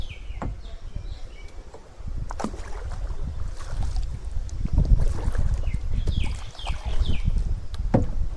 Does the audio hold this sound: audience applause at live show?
no